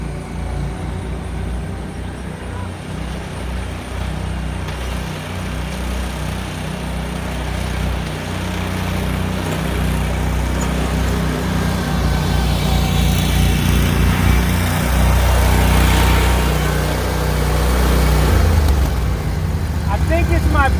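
Engines of Grandstand and X-Mark riding mowers drone and rise together as the two machines race, a loud continuous roar with speech over it.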